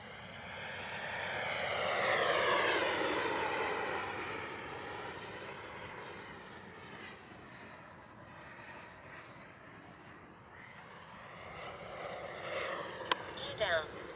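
Arrows RC F-15 model jet with twin 64mm electric ducted fans flying past, a whooshing whine that swells as it nears, fades and then builds again, heard from the ground under outdoor background noise.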